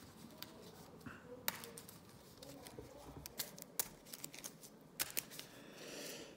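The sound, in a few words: shuffling command cards for a board game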